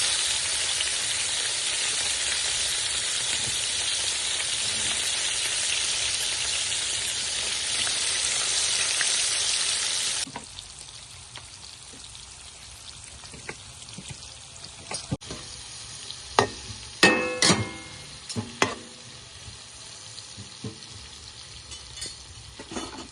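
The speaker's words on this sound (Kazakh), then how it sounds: "пияздарымды қуырып аламын" Carrots and onions fry in a pan with a strong, continuous close sizzle for about ten seconds before it cuts off abruptly. Running water and scattered clinks and clatters of kitchen utensils follow.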